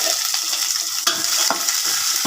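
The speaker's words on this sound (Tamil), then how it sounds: "வெங்காயம் நல்லா ஃப்ரை ஆகணும்" Onions and garlic frying in a pan give a steady close hiss and crackle of oil, with occasional stirring scrapes and pops breaking through.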